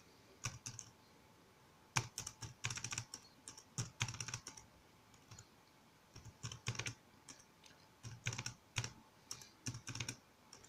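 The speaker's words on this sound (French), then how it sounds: "Maintenant je peux taper ici n'importe quelle valeur." Values are typed into an Excel spreadsheet on a computer keyboard, heard as close, crisp bursts of key clicks in uneven flurries with short pauses between them.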